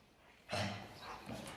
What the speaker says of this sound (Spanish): enloquecidos los perros